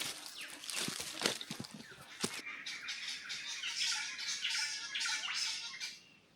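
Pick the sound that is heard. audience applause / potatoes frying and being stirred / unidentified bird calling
unidentified bird calling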